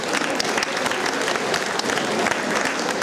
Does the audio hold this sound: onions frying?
no